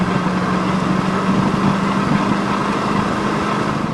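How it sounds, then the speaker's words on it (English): A 1985 Dodge Ramcharger with a 360 V8 and automatic transmission under light throttle while driving, a steady low engine drone with a faint tonal hum, loud and even throughout with no talk. "Roll under the throttle a little bit."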